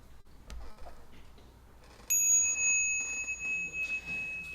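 A bell in a Buddhist temple is struck once, giving a clear, sustained ringing tone that hangs steadily after a quieter start with faint background sounds.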